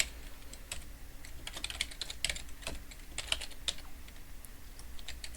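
Quick, irregular clatter of keys on a computer keyboard as track titles are entered, bursts of close, crisp taps with brief pauses and no talking.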